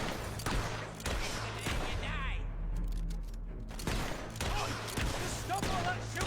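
Gunfire from the Fable 3 video game, several sharp shots spread across the clip with bursts near the start and end, heard under steady game ambience and talking voices.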